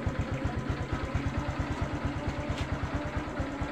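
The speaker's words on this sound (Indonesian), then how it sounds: "Motor normal ya. Ini suaranya adem," A fuel-injected Honda Blade motorcycle engine idles smoothly and close by, giving an even, rapid low pulsing beat with a light mechanical clatter on top and no talking.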